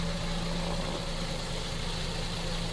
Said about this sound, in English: we're idling real nicely